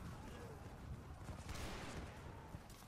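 Musket volleys in Medieval II: Total War, a Napoleonic France versus Italy battle, crackle as a dense, continuous fusillade of overlapping shots with battlefield din throughout, faint and steady.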